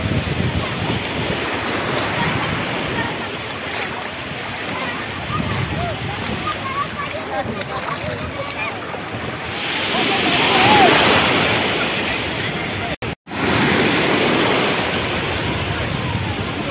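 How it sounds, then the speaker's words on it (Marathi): Ocean waves breaking on a Sindhudurg beach, a steady wash of surf and wind buffeting the microphone, swelling into a louder crash near the end, with people talking over it. "एका समुद्राचा आवाज जवळून"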